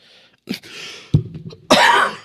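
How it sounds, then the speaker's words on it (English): A few harsh coughs close to the mic, with a throat-clearing rasp before a final loud, drawn-out cough. "I try to keep these coughs down to a minimum"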